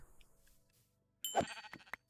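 Sheep in a Minecraft modpack game give a short, close bleat followed by a quick second call, after near-silence.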